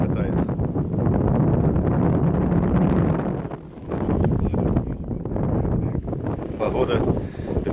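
Strong wind buffets the microphone at a beach where kitesurfers gather, a steady roaring gust that briefly eases before building again.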